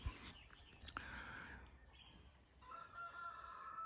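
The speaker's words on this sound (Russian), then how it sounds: "Петухи поют, птички поют." Faint rooster crowing carries from a distance over a quiet outdoor hiss, with a second crow drawn out near the end.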